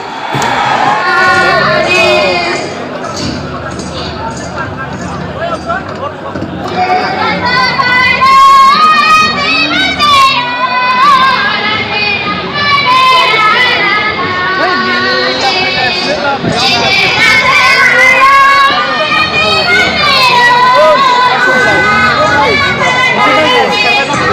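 A large crowd cheers and shouts at the 2022 ISPL football final, a loud, sustained roar with whoops and children's shouts, while an announcer's amplified voice talks over it throughout.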